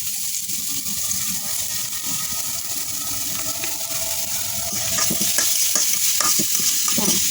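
Green chilies frying in hot oil in a home kitchen make a loud, continuous close sizzle, with clattering stirring sounds growing busier in the last few seconds.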